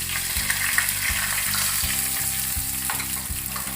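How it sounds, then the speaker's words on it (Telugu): Split dal fries in a pan with a loud, dense, continuous sizzle, close and unbroken, over a low rhythmic pulsing hum. "తర్వాత పుచ్చపప్పు ఉంది కదా, అది కొంచెం వేయించుకోవాలి"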